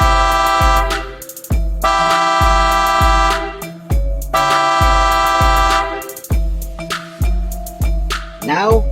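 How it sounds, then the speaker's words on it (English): A Toyota Rush TRD Sportivo horn with an air-horn tone blares in a series of loud honks, some short taps and some longer held blasts, sounding close and alone. "I like the fact that it sounds like an air horn"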